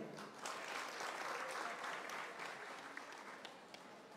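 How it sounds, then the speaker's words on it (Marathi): Audience applause at a public function in Maharashtra, a dense, steady wash of many hands clapping that stays loud throughout, with a few sharper claps near the end and a faint voice underneath. "महाराज साहेबांसाठी एकदा जोरदार टाळी."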